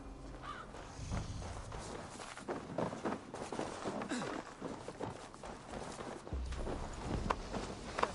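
Horse hooves drum in a rapid gallop in the Viking game Assassin's Creed Valhalla, a steady, soft-edged beat of mid-distance footfalls that runs the whole time under faint background ambience.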